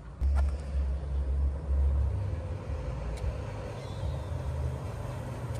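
Trucks and construction machinery rumble through a neighborhood in Maceió, a deep steady low drone from nearby heavy vehicles with no talk.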